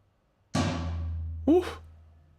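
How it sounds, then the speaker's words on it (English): A fat tom drum sample from the Trigger 2 plugin: one heavy, booming tom hit rings out with a long decaying tail, followed by a second short, pitched strike that fades into reverb. "What the fat tom sound like?"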